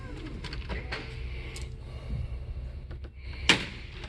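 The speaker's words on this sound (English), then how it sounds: "So close the screen door, the steps go in," On a 2021 Seneca 37TS RV, the screen door shuts with a soft close while the power entry steps retract with faint mechanical rattling, ending in a sharp latch-like click; fairly quiet overall.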